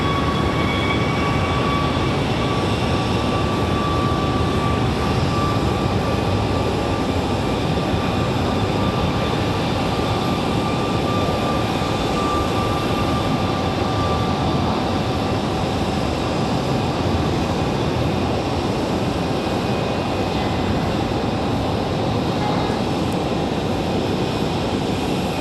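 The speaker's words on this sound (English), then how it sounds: "United 2450 up next for departure" United Boeing 737 Max 8 departing Raleigh-Durham airport, a constant loud jet engine roar with a faint steady whine, unbroken for the whole stretch and without voices.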